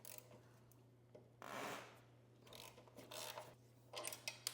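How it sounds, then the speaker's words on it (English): A ratchet works loose the top brake caliper bolt on a 2025 Ducati Panigale V4, giving quiet, close clicking and rasping strokes in bursts over a steady low hum, with one louder sustained scrape midway. "what we're gonna do is remove the caliper bolt"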